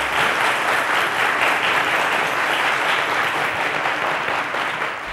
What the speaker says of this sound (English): Ladies and gentlemen, a round of applause to David.